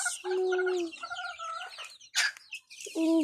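Chickens in a poultry coop cluck and call in short, close bursts, overlapping birds giving repeated squawks and clucks with a brief sharp cry near the end.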